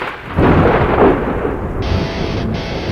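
A loud thunder rumble rolls in over falling rain in a radio show jingle, swelling for about a second and then fading into a steady rain hiss.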